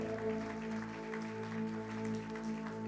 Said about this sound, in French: Acclamez, bien-aimés.